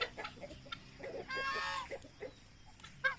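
Geese honk close by, a few short nasal calls followed by one longer, drawn-out honk, then more scattered calls.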